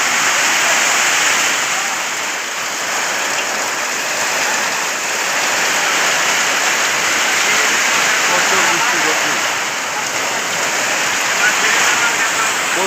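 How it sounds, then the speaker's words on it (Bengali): Heavy storm rain pours steadily in Raghunathpur Madhyapara, Phulbaria, Mymensingh, a dense, loud hiss of downpour that holds unbroken throughout with slight swells in intensity. "ঝড় বৃষ্টি গতি বাড়তেছে।"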